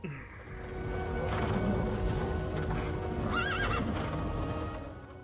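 A horse in the video game Castlevania: Lords of Shadow whinnies in a rising, wavering neigh amid steady hoof clip-clops and a low ambient hum; the animal sounds close and clear.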